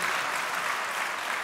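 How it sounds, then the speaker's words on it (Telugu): A church congregation claps hands together in praise during a sermon, a dense, steady wash of applause that fills the room without a break. "సంతోషంతో చప్పట్లు కొట్టి దేవుని స్తుతిద్దాం"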